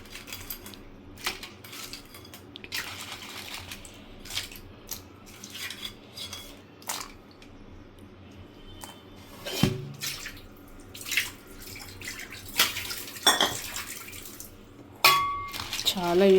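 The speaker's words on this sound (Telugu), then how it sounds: "ఇప్పుడు వీటిని ఫ్రెష్ వాటర్లో వేస్తున్నాం." Medium-sized crabs being washed in fresh water in a metal vessel, splashing and sloshing with clanks and scrapes of shells against the pot, close and irregular, a voice talking at times underneath.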